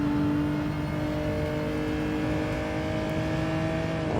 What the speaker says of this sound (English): it just sounds like a full-on race car coming out of this like big four-door sedan